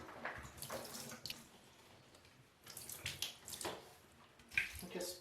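Water trickles and splashes in short bursts with a pause in between as it is poured into a houseplant's soil to flush out hydrogen peroxide, close by and fairly quiet, with no talking.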